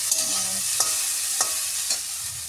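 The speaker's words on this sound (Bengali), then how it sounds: "এদিকে ভেন্ডি আলু ভাজাটাও আমার হয়ে এসছে, আর একটু ভাজা হবে।" Okra and potato fry in a pan with a steady, close sizzle, broken by several sharp scraping stirs at regular intervals.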